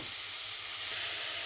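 Potatoes frying in a pan for aloo chorchori, a steady broadband sizzle and hiss that holds evenly throughout with no talking.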